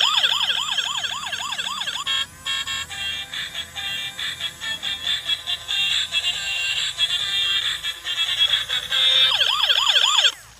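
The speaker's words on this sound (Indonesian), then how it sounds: "Dilengkapi juga dengan lampu sirinenya" Toy Bugatti police patrol car siren, loud and close, wailing in rapid rising-and-falling sweeps that shift into a steady electronic tone before the wail returns.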